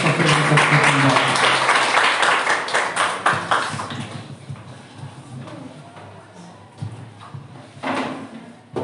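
Church congregation clapping at a Sunday family service, loud and dense at first, then thinning and fading into scattered claps and room noise.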